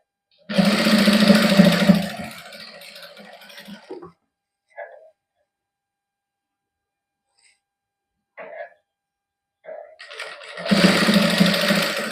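A sewing machine stitches lace onto a cotton suit in two loud whirring runs, one at the start and one at the end, with a long near-silent pause broken by a few small handling sounds.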